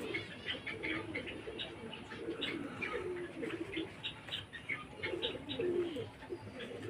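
Pigeons coo steadily from a small cage loft, low throaty calls repeating in overlapping murmurs at moderate closeness, with faint chirps mixed in.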